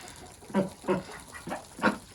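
Five harsh, raspy honks from a Muscovy duck, evenly spaced at a moderate distance, with no talking.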